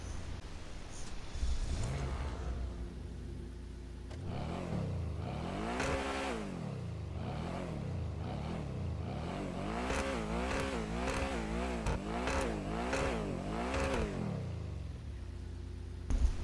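Engine of a Pegassi Toros car in GTA Online, heard from outside the car, idling and then revving in repeated rising and falling sweeps that quicken into rapid pulses before settling back. The sound is moderately loud and steady.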